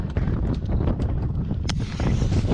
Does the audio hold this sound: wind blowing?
yes